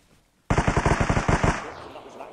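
Automatic gunfire in Arma Reforger: a close, loud burst of about a dozen rapid shots lasting roughly a second, followed by a fading echoing tail, with no talking.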